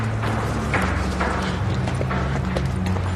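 A horse's hooves clop in a steady walking rhythm on a hard surface, close and clear over a low background hum.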